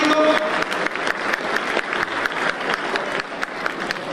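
An audience at an international community conference claps together in a dense, sustained round of applause, fairly loud and close, with no speech over it.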